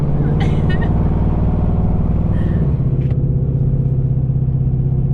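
A pickup truck's engine runs loud and steady close by, a continuous low rumble with a faint rise in revs, while brief bursts of voices cut in over it.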